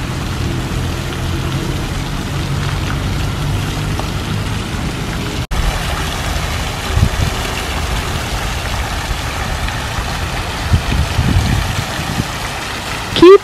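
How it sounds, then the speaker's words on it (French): Motorcycles rumble far off beyond Parc Villa Ormond in Sanremo, a low, steady engine drone with a few faint swells, heard alone without talk. "On entend encore un peu les motos"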